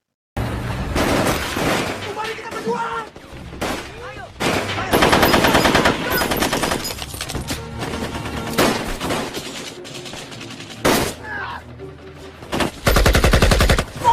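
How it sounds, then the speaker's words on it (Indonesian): Animated battle between Indonesian fighters and Dutch troops, loud bursts of machine-gun fire and single gunshots crackling in rapid volleys with brief pauses and booming impacts, dense and close throughout. "Tiba-tiba mereka dihadang oleh pasukan Belanda dan pertempuran tak bisa terhindarkan."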